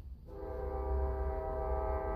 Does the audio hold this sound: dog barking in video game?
no